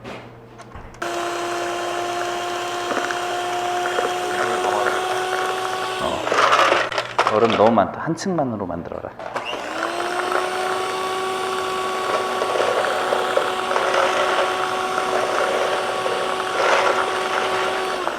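An electric hand mixer whirs steadily as it whips cream in a hotel pan, a constant high motor whine that breaks off briefly midway, with a voice speaking over it.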